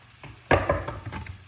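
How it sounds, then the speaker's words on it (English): Grated carrot stirred into a pan of butter and onions: a sharp scrape as the spoon goes in, then soft sizzling and shuffling stirs that fade out, with no talking. "And just mix it in with the butter and the onions."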